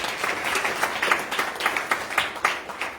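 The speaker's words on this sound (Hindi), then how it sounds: "आप इनको तालियों के साथ सम्मानित कीजिए" Clapping from an audience at a Shri Ram Katha gathering in a Hindu temple, a moderate round of applause with distinct individual claps standing out against the crowd.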